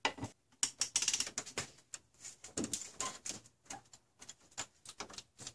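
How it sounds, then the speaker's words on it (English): A ratchet turns the crankshaft of a Toyota 5VZ-FE engine, giving a run of quick, close metallic clicks in short irregular bursts. "So I'm going to turn the crankshaft just a little bit so I can clear the head of that bolt."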